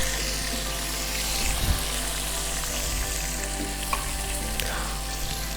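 Tomatoes and green chillies sizzle and fry in a pan with cooked ginger and garlic, a steady close crackle for several seconds with a few stirring clinks and no talking.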